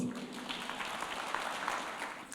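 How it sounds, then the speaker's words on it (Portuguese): A congregation claps during a Sunday church service, a brief, fairly soft patter of many hands heard from a distance for a couple of seconds. "Uma salva de palmas para Jesus"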